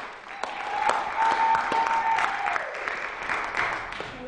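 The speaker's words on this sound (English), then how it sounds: "Let's clap hands for her." Church congregation clapping their hands together in a dense, steady burst of applause for about four seconds, with a sustained high whistle-like tone or cheer riding over the clapping.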